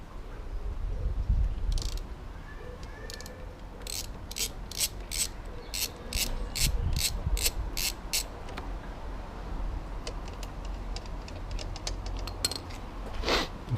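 A ratchet wrench loosens 13mm bolts on the brakes of a BMW S1000RR motorcycle, with clustered runs of rapid close clicks and short pauses between strokes.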